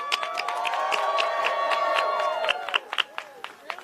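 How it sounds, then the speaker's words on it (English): A rally crowd cheers and claps for Representative Pressley at a student debt cancellation event, a sustained roar of cheering with whistles and scattered claps, close and loud throughout. "Let's give a round of applause for Representative Pressley"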